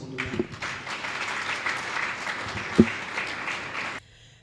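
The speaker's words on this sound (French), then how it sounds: "Applaudissons pour nous-mêmes." Dense audience applause fills a hall at an international conference in Kinshasa, a steady wash of many hands clapping that runs for about four seconds before cutting off abruptly into quiet room tone.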